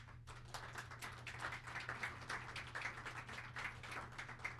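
Applause at a university hall naming ceremony: a small crowd claps in dense, even bursts over a low steady hum, fairly faint and distant, with no voices over it.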